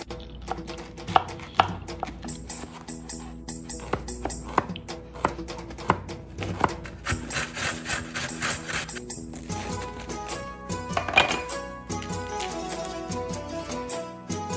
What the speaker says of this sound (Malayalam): ഇനി ഈ പച്ചക്കറികളും പഴങ്ങളുമെല്ലാം നമുക്ക് അരിഞ്ഞ് റെഡിയാക്കാം